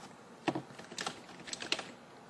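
Keys tapped on a computer keyboard while typing a new file name, a few quick clustered bursts of clicks, close and fairly quiet, with no talking.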